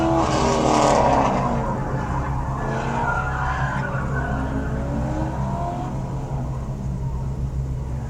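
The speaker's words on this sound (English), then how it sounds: "Comes the Volkswagen Rabbit." Volkswagen Rabbit running an SCCA autocross course, heard from a distance as a steady engine drone with tire squeal and skidding, loudest near the start and then holding level.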